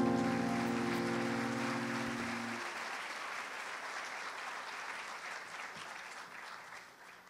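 Audience applause after a song, a dense crowd clapping that starts under fading sustained music tones and carries on alone, slowly dying away.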